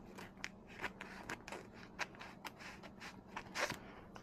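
Scissors snip repeatedly through camo seat cover material for an Arctic Cat 400 four-wheeler, a series of close, crisp cuts and crunchy scrapes in an irregular rhythm, no talking.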